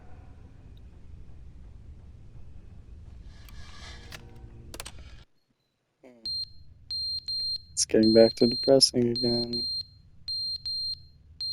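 Repeated electronic beeps sound in The Stanley Parable: Ultra Deluxe, a high, steady pulsing tone that follows a brief silence and plays under someone speaking.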